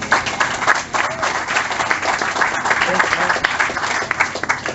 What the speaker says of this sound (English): let's give Ray Smith a round of applause